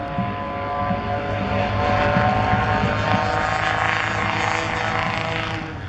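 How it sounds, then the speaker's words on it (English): Propeller airplanes racing at an air show, a loud steady droning engine roar that swells in the middle and holds, heard from fairly near. "now Brian's got the quicker airplane"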